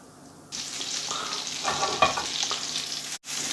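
Butter going onto a hot tawa for a bread omelette breaks into a sudden loud sizzle that crackles and spits steadily, briefly cutting out near the end before the frying hiss resumes.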